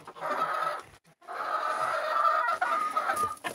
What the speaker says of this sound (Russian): Здоровый петух вырос, вообще здоровый.